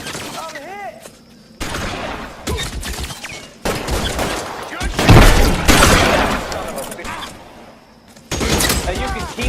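Gunfire in the detective game L.A. Noire during a shootout, with loud, overlapping cracks and a heavy blast with a glassy shatter in the middle, all under shouting voices and siren-like warbles.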